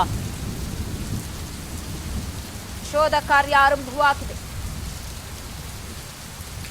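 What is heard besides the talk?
heavy rain with thunder in Karnataka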